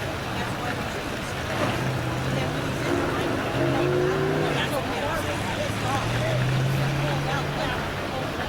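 Modified race cars idle and rumble together trackside at a speedway on autograph night, a steady loud engine drone with rising pitch sweeps as the cars roll out, while a public-address announcer talks over the noise.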